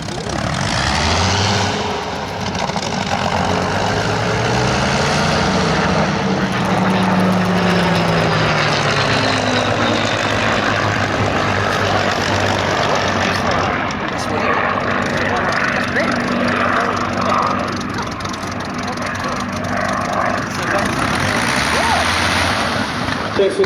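A Supermarine Spitfire's engine roars loudly and steadily throughout, a continuous propeller drone with slowly shifting pitch as the aircraft flies past near Sywell.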